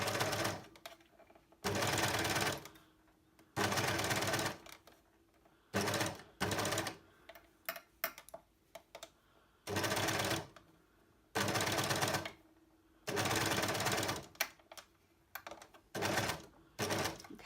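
An overlocker stitches fabric in a tight circle, working in loud, close bursts of rapid mechanical whirring, each lasting a second or two and separated by short pauses, with a faint steady hum between the bursts.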